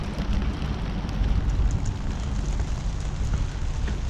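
Steady rain falling outdoors, a dense even hiss with low rumble and scattered patter, continuous and fairly loud throughout with no voices.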